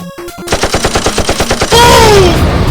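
Rapid-fire shots from Mega Man 3 come in a fast, even burst of about a dozen loud electronic blasts. A bright sliding tone and a denser noise follow.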